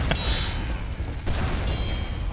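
Rocket explosions in Team Fortress 2, a few loud blasts with bursts near the start and middle and another near the end, over continuous game noise.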